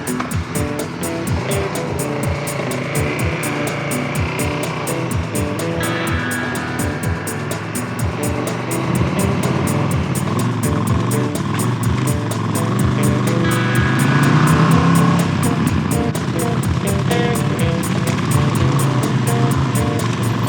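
A KTM Super Duke 1290 GT motorcycle rides along a road through a river canyon in the Aragon Pyrenees, its engine a steady loud drone mixed with wind rush, swelling slightly in the second half.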